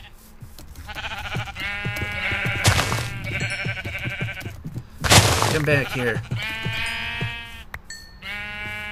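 Sheep bleating in Minecraft, several wavering bleats at close range with a voice talking over them and two loud bursts midway.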